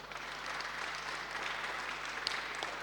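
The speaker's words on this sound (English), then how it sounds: "Let's clap for ourselves." A seminar audience at a talk on personal and family finances claps for itself in a steady, moderately loud burst of applause from the room, with no talking over it.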